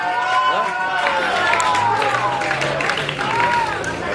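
Crowd noise at a kickboxing belt bout, with applause and cheering spread across the hall under a steady babble of voices and someone speaking over it, the din staying fairly even throughout.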